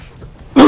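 A single short, harsh cough bursts out abruptly after near silence, loud and close to the microphone.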